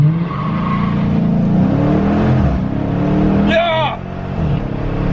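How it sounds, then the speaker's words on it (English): A V1 Cadillac CTS-V launching with launch control set around 2750 rpm, a loud close engine roar that builds and shifts pitch through the gears, with people talking and exclaiming over it. "this has launch control, so we're about to just launch it and see what it is"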